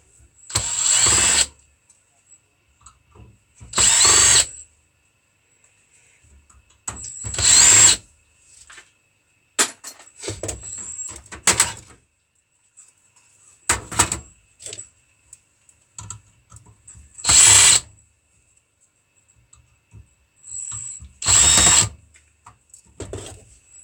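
A power drill backs screws out of scrap computer parts in short, sharp whirring bursts spread across the stretch, with clicks and handling noises in the gaps.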